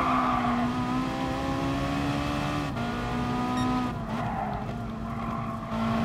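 A race car in Gran Turismo Sport, its engine droning at a steady high pitch with tire squeal and skidding layered over it, loud and continuous without voices.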